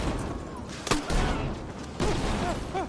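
Grenades going off in Battlefield 6 multiplayer, a few sharp blasts amid ongoing gunfire and battlefield din, loud and close, with bursts around each detonation.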